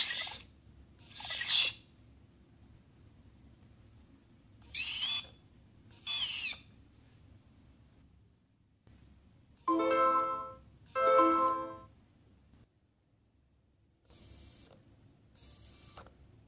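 Pop-up camera slider on an OPPO Find X phone playing its effect repeatedly, several short bright chirps and tonal bursts in pairs, close and moderately loud over a quiet background.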